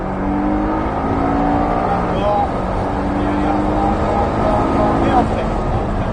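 A Porsche Cayman S accelerates hard on a race track, its engine a loud, continuous roar with rising pitch from inside the car, under a voice giving driving instructions.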